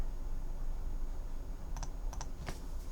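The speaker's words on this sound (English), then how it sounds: "let me just type out a few names" Typing names on a phone's touchscreen keyboard in the Microsoft Teams mobile app, a short cluster of faint, soft taps in the second half over a steady background hum.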